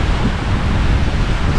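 Waves break and wash along a seashore in a steady, loud roar with wind buffeting the microphone, no voices over it.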